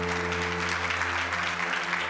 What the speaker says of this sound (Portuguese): ter uma salva de palmas ao Senhor Jesus